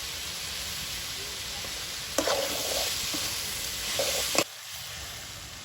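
Chopped onions sizzle and fry steadily in a pan during village cooking, with a couple of sharp clatters from stirring or added ingredients over a constant hiss.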